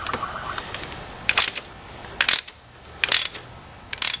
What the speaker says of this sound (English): I've got the ratchet and the flex unit in stop in position